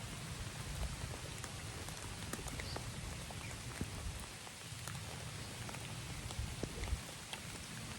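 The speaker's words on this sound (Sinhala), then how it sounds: "මේ හයියෙන් වහිනවා මේ තිබ්බට" Heavy rain falls continuously on Pansal Gala temple rock, a thick wash of noise with occasional sharper drops tapping close by.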